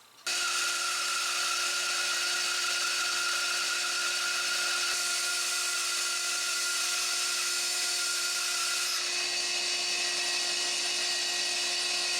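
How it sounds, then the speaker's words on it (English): Power saw steadily resawing a white oak board in half, a continuous, loud, high-pitched whine that holds for the whole stretch with a slight shift in pitch partway through. "resaw this board in half"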